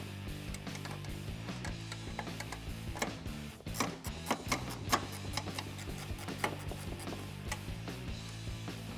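A 7mm bolt is worked loose from a plastic headlight bracket on a 2014-2015 Silverado 1500, producing a rapid series of close ratcheting ticks and clicks that grow denser and louder midway.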